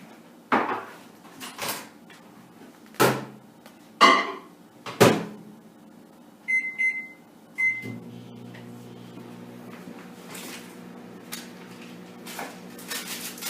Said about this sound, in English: So I'll put it in the microwave for maybe about 30 seconds.